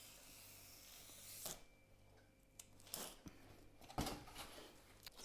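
Stiff foam board is roughly cut to size for a model river, a few faint scraping and snipping strokes with soft handling knocks, quiet and close in an otherwise hushed room.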